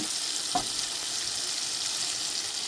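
Flour-coated chicken nuggets fry in hot oil, giving a steady, even sizzle throughout with one brief clink near the start; no one speaks.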